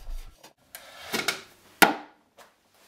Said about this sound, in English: Simply take a couple of shavings off the sides of the front